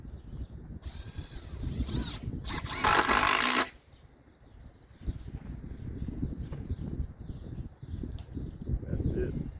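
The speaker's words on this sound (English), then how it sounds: "All I'm going to do is maybe put 2 screws in each one." Power drill driving screws into boards during a foyer renovation, a couple of short whirring bursts with one louder run, surrounded by ongoing speech.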